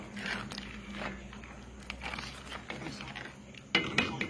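Someone eating rice cooked with jiló, soft close bites and chewing mixed with light spoon-on-plate clinks, a louder clink near the end.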